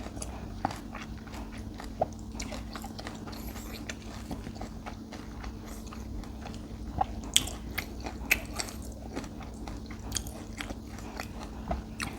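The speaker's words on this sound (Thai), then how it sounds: "เสียงขนมจีนอ่ะ" Someone eats khanom jeen, Thai rice noodles, in a quiet room, giving soft wet chewing and slurping with scattered faint clicks over a low steady hum.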